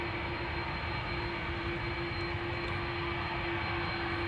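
A KLM Airbus A330-200 departs Amsterdam Schiphol, close and loud, with a continuous dense engine roar and a sharp steady whine held over it for the whole stretch.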